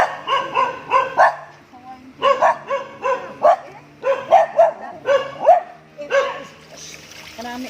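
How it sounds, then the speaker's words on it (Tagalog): Close, insistent barking and yelping comes from a dog as it is bathed, in quick bursts of three or four with brief gaps, and water splashes faintly underneath. "May nagpapaligo ng aso."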